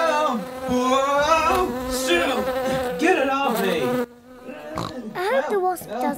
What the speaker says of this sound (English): Daddy Pig is running too fast for the wasp to catch him